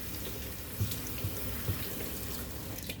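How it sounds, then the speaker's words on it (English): Kitchen tap running while celery stalks are rinsed under the stream, a close, steady rush of water with a few soft splashes as the stalks move through it, no talk. "So I just run it up under the water."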